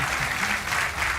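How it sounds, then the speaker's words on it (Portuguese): A brief stretch of continuous clapping from a television studio audience, even and full. "Um aplauso para o Hugo e para o carro dele."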